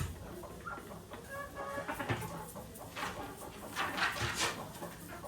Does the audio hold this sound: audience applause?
no